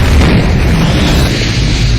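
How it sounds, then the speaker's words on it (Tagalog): A bomb blast in The Hurt Locker is heard as a loud, sustained roaring boom, a thick wall of low rumble and broadband noise filling the whole stretch without any speech. "Tinamaan siya ng pagsabog"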